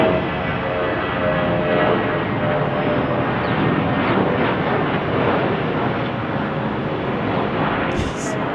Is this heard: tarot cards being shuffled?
no